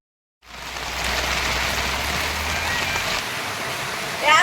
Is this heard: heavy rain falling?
yes